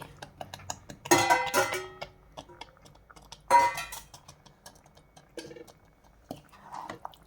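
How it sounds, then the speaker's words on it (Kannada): Chicken pieces are tipped into a pan of palak gravy in two loud, wet clattering bursts, with small clicks and taps of utensils between them. "ಸೊ ಅದರಿಂದ ಈಗ ಫಸ್ಟು ಚಿಕನ್ ಆ್ಯಡ್ ಮಾಡ್ತಾ ಇದ್ದೀನಿ"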